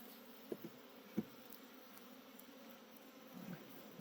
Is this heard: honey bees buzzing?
yes